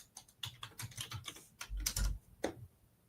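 Fingers tap quickly on a computer keyboard, the keystrokes coming close and crisp in uneven bursts with a few short pauses, ending on a firmer single press.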